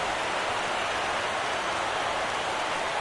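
Rain pours steadily over a baseball stadium during a World Series game between the Astros and Cardinals, a dense even hiss of falling water with no talking until a faint knock at the very end.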